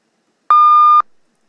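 One steady pure beep, the higher of the two tones that make up a telephone keypad signal, sounds alone for about half a second at full strength and ends sharply, leaving a brief fade.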